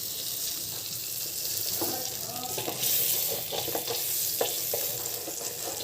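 Butter melts and sizzles in a pan for white sauce, a steady soft frying hiss with scattered clinks and scrapes of stirring, no talking.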